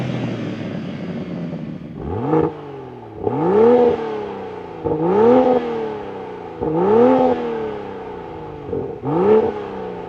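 A tuned 450 hp BMW M240i xDrive engine revs hard in repeated bursts, about five rising roars with short drops between them, loud and close with no talking.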